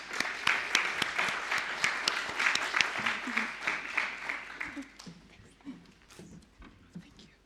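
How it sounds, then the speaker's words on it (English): A seminar audience applauds the first panel on water institutions, peace and cooperation. Brisk clapping comes at moderate volume and fades after about five seconds, leaving scattered quiet talking and shuffling. "Let's give a round of applause for our first panel."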